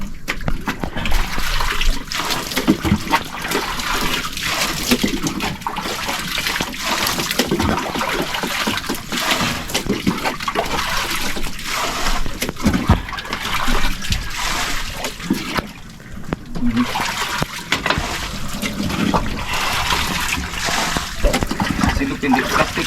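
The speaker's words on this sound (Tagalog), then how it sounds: "Daming tubig." Water splashing and pouring inside a large wooden boat that is falling apart, a dense continuous wash of sloshing and spattering water held close and loud for the whole stretch, with no clear speech over it.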